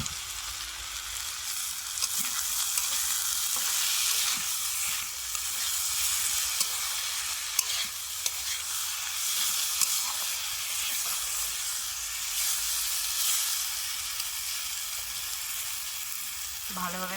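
Steady close frying sizzle of a Bengali mourala fish and potato curry with salt, turmeric and sugar in the pan, a continuous hiss with occasional soft stirring scrapes and no talk.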